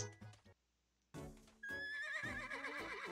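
A horse in the Nintendo Switch game Miitopia neighs loudly with a long, wavering whinny after a brief burst of game sounds and a short silence.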